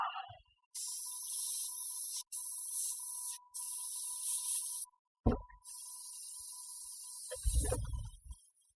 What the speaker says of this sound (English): Just making sure I'm spraying good and clean.